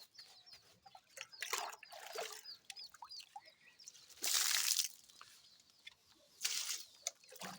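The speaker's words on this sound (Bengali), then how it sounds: "এই যে জল দিচ্ছি" Water is poured at the base of a lemon tree outdoors in two short, splashy bursts, softly trickling between them, with faint scattered outdoor noises around.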